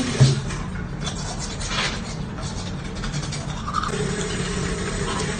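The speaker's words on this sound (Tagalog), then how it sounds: "Mag-toothbrush muna tayo." Someone brushes their teeth in a bathroom, the toothbrush giving close, continuous scratchy scrubbing strokes with a soft bristly hiss over the whole stretch.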